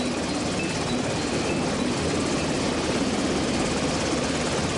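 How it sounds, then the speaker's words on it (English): Steady, loud rotor and engine roar of a LAMPS Mark III Seahawk naval helicopter flying, continuous and broadband with a throbbing low end, no voices. "by using LAMPS Mark III Seahawk helicopters"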